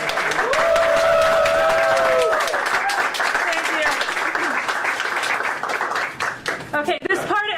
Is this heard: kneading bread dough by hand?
no